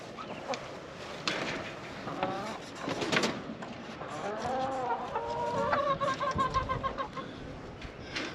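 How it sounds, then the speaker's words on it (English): Chickens cluck and croon close by in a coop, several birds overlapping in short bursts with a faint rustle in the background. "I got 17 birds."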